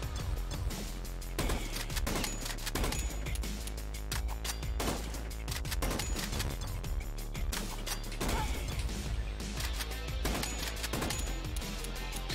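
Rapid gunfire in the rhythm-shooter video game BPM: Bullets Per Minute, sharp repeated shots and crashes landing in a steady beat over a loud, driving metal soundtrack, with no talking.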